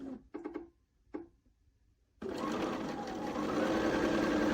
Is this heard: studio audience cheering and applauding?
no